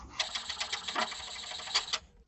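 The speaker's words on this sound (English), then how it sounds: "Now it's printing the first side" An HP Envy 6120e inkjet printer runs its first printing pass with a steady, busy mechanical whir, broken by brief rattling clicks and a few louder knocks close by, before it stops abruptly.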